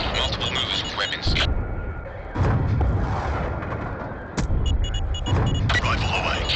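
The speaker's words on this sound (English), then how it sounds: "Missile away." In Black Ops II combat, a missile launch and impact land as several sharp, broadband bursts over continuous battlefield rumble, with radio chatter voices speaking throughout.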